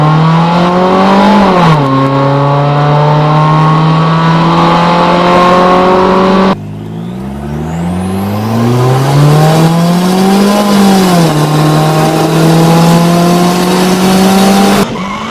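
A GA16DET-powered car launches in a 0-60 run, tires squealing as the engine screams up through rising revs, drops at each shift and pulls again, loud and close throughout.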